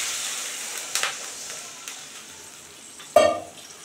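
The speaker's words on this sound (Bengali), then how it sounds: "তো বন্ধুরা, এখন আমি জল দিয়ে দেব।" Water hits a hot, sizzling pan of mango chutney, a hissing fry that fades slowly, with a few spoon or pan clinks and one sharp sizzling burst near the end.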